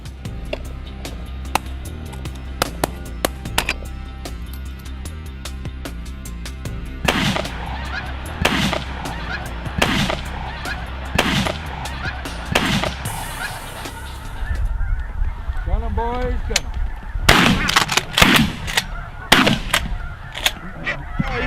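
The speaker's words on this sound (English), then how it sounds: "I've done a lot of goose hunting, and this was one of the best shoots I've ever been on." Geese honking during a goose hunt with shotgun fire: a dense chorus of honks overhead, then a volley of sharp, loud shotgun blasts in quick succession, followed by more honking and further shots.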